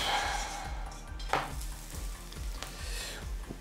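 A small omelette fries in a pan with a steady close sizzle, interrupted by a few soft scraping strokes from a utensil and brief clinks against the pan.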